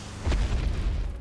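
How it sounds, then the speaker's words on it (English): Solar beam attack in a Minecraft Avengers vs Godzilla mod fires as a short, deep booming blast with a rumbling tail, loud and close, with no talking. "Okay, I'm gonna try my solar beam."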